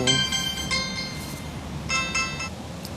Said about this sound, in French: là vous avez entendu une sonnerie de téléphone